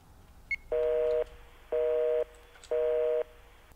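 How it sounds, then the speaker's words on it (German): Phone ringing tone in the Contagion VR video game: three even, evenly spaced electronic tones about half a second each, preceded by a short blip, over quiet background. "Irgendjemand hat uns einfach angerufen."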